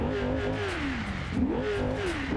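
A video-game V8 car engine in low range revs with a rising and falling mid-pitched growl, repeated surges of throttle up close, and no talking.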